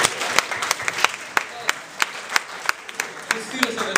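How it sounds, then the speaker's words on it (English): Students at a college lecture give a modest round of applause, with separate claps standing out sharply and irregularly over a low room murmur. "give them a round of applause first."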